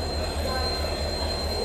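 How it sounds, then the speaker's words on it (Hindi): A passenger train stands at night at Ratlam railway station, giving a steady low rumble with a faint thin high whine and a soft rhythmic pulse underneath. "अब रात को 10:08 पर ट्रेन आ गई है रतलाम"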